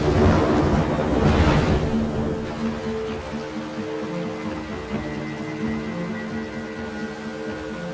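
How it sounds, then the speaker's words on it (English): A thunderstorm in a cartoon rumbles loudly and steadily with no pause, a heavy thunder roll building near the start and rain rushing beneath it throughout. "long time since we've seen a thunderstorm"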